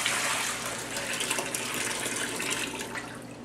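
Soaking water pours off julienned potatoes that were steeped to remove starch, a steady, close gushing rush that fills the whole stretch without pause.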